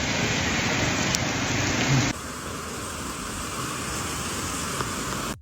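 Heavy storm rain pours down in a dense, steady hiss of broadband noise, loud and unbroken throughout, with no talking heard.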